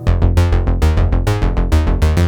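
A punchy 90s industrial-style synth bass plays a rhythmic pattern of short, plucked notes with a deep square-wave sub-oscillator layer two octaves down at full level, loud and upfront with no voices.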